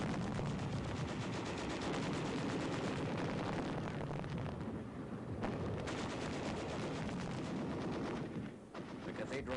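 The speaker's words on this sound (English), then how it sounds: "There is some machine gun fire and occasional shells, but little concerted resistance." Machine gun fire crackles almost nonstop with heavy shell bursts mixed in, a dense and loud wartime battle din in Cologne as tanks and infantry advance into the besieged city.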